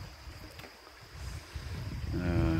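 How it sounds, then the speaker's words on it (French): Wind gusting across an open hilltop on a hiking trail along the GR70 Stevenson route, a broad rushing roar that swells and grows louder toward the end, with buffeting against the microphone. "Bon, j'espère que vous allez m'entendre avec le vent."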